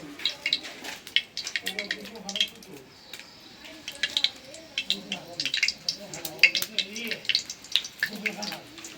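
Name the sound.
frying in soybean oil with dried chilies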